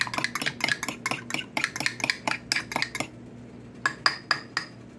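Utensil whisking omelet ingredients in a bowl, a quick steady run of bright clinking strokes that pauses briefly and then resumes with a few slower taps, close and alone over a low hum.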